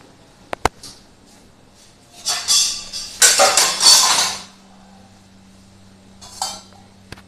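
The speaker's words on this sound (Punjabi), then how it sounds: "ਸਾਰੇ ਭਾਂਡੇ ਮਾਂਜ ਤੇ ਸਲੈਬ ਸਾਫ਼ ਕਰ" Dishes and utensils being scrubbed and washed, with a couple of sharp clinks early on, then a few seconds of dense clattering and scraping and a last short burst, close by with no talk.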